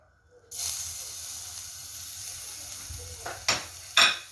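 Garlic hits hot oil and bursts into a loud sizzle that settles into a steady close hiss, with two sharper flare-ups of spitting near the end, cooked for Chinese restaurant-style chicken shashlik.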